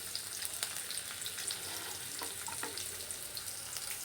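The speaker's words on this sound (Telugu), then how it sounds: "జీలకర్ర, 2 ఎండుమిర్చి తీసుకుని ఫ్రై చేసుకోవాలి." Cumin, dried red chillies and chopped ginger fry in oil with a soft, steady, hissing sizzle, and a couple of faint stirring clicks sound nearby.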